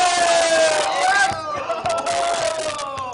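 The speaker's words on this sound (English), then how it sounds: "And the crowd goes wild" A crowd around a high-stakes poker table erupts in loud, sustained cheering and shouting, with a few sharp claps and whoops breaking through the roar.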